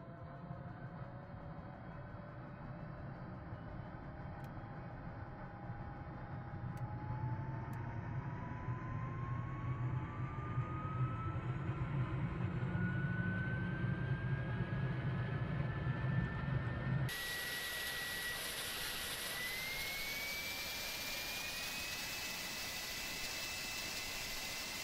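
A helicopter engine spins up in a flight simulator game, a steady turbine whine rising gradually in pitch over a constant rumble, with a sudden higher shift partway through, loud and continuous with no voices.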